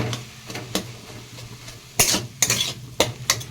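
Spinach greens being sautéed in a pan, with sharp, close scraping and clinking strokes of a utensil coming in irregular bursts over a low, steady hum.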